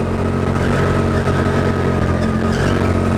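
Indoor go-kart at a Sheffield track sliding through a corner, a loud, close, continuous engine buzz with rough tyre scrubbing and squeal blended in, no speech over it.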